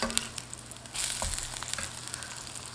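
Falafel patty just flipped and frying in hot grapeseed oil, a steady soft sizzle with a louder surge of crackling about a second in, then continuous bubbling hiss close by.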